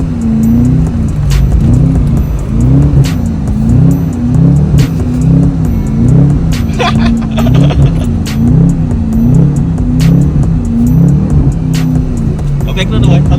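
A tuned Chevrolet Camaro SS revs and slides in snow, its engine note rising and falling in steady repeated surges as the car spins, loud and close, with voices talking over it throughout.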